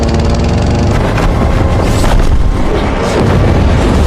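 A loud, sustained explosion from a Mad Max film, a dense roaring blast that fills the whole clip with rumbling and crackling debris and no voices.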